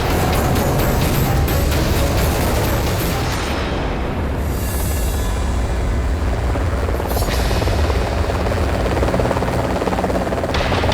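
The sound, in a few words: helicopter arriving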